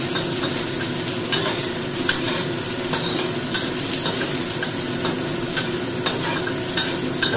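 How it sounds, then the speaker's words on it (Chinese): Ginger, scallion and garlic stir-fried in a wok over medium-low heat, giving a steady close sizzle with soft scraping stir strokes throughout and no talk. "姜葱蒜啦，落去用一個中細火啦，我炒香佢先。"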